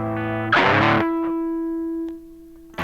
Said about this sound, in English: some outrageous distortion from the Boss DS-1